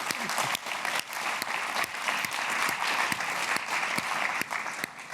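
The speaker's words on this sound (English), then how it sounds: "So I do want another applause to everybody in this room." An audience at the Oxford Africa Business Forum 2024 claps continuously in the room, a steady, full burst of applause with a few sharper individual claps standing out.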